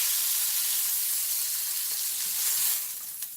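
Zucchini frying in a hot pan gives a steady, dense hiss of oil sizzling close by, loud and even throughout with a slight swell near the end, no voices.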